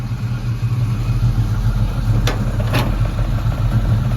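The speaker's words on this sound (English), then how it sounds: "Nice dual exhaust, good sounding," A 1952 Chevrolet 3100 street rod shop truck with dual Flowmaster exhaust idles loudly and steadily, a deep, even rumble close by, with two brief sharp clicks partway through.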